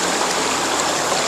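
A flowing stream runs steadily and close by, a continuous broad wash of water with no gaps or voices over it.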